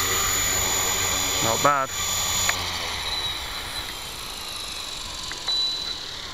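An LH 450 radio-controlled model helicopter landing in governor mode, a loud steady rotor and motor whine whose pitch sweeps briefly mid-way before settling, with a voice speaking briefly over it.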